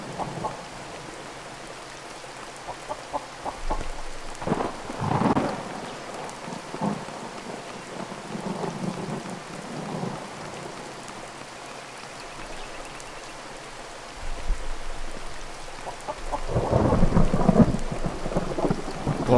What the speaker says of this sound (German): Boah, Gewitter hört sich hier aber an, ey, bei dem Game.